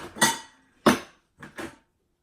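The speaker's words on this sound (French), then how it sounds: "Vous entendez vraiment des travaux." Faint clanking and banging from street construction work outside, four clattering metallic knocks in an uneven rhythm heard from a distance in an otherwise quiet room.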